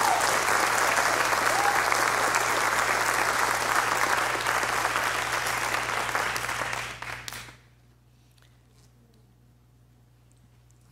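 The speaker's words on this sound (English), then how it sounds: "Let's give them all a big round of applause." Audience applause at a spring piano recital, a dense steady clapping that fills the room for about seven seconds before quickly dying away into near silence with a faint low hum.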